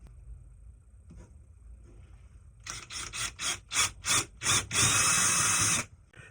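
A power drill bites through pouch material in a series of short, sharp bursts, about seven quick pulses, then one longer continuous whir, close and loud against a quiet room.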